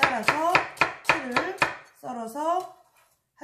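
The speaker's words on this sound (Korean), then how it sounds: "이렇게 양파를 결 따라서 채를 썰어서 한쪽에 준비를 해두시고요" A knife julienning onion on a cutting board: about seven crisp, evenly spaced chops, then a softer, trailing cut before quiet.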